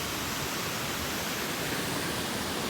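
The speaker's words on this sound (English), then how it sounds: "I see the massive drop off where I think is a waterfall." A waterfall on the Ellis River, in the White Mountains of New Hampshire, gives off a steady, dense roar of rushing water that holds constant throughout, loud and unbroken.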